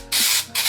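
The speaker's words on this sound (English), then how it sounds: "So I'm gonna go ahead and just finish spraying this whole wig down for you guys" Two quick bursts of dry shampoo spray hiss onto a synthetic wig, close and loud, with a short pause between them.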